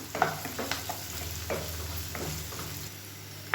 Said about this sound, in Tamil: இப்போ காய்கறி எல்லாமே வதங்கிடுச்சு